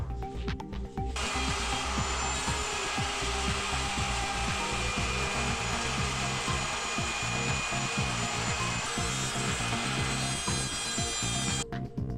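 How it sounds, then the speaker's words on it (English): A loud, steady router whine with gritty cutting noise runs almost nonstop while trimming wood edges on a camper trailer build, stopping abruptly near the end. "I'm just going to use the router to trim everything down."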